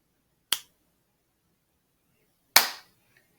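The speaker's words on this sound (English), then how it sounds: "Sometimes it can't hear me snap" Two crisp finger snaps ring out about two seconds apart in a quiet room, close and sharp, with silence between them.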